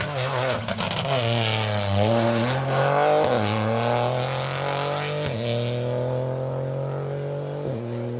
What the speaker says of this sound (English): One of the Peugeot 208s heading down the hill towards us.